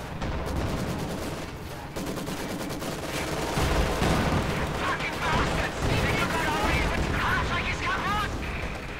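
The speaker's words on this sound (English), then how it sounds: "I use a Katyusha barrage to clear the pack faster" A Katyusha rocket barrage in Company of Heroes 2 comes as a dense, continuous roar of launches and explosions, loud and sustained throughout, with battlefield chatter mixed in.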